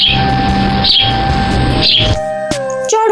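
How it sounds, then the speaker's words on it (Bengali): Sparrow chirping, bright short tweets over a steady background, with a few clearer chirps near the end, moderately loud and close, no talk. "চড়ুই চড়ুই"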